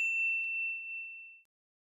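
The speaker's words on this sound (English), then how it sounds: "ring the bell to be notified about our latest videos" A single bright notification bell ding, a clean ringing tone that sustains and fades out over about a second and a half, alone with no other sound.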